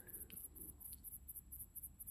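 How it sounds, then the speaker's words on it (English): Crickets chirp at night beside a coastal path, a rapid pulsing series of high chirps repeating in a steady rhythm, fairly loud against a quiet low background rumble. "Mostly I can hear crickets, loud chirping away."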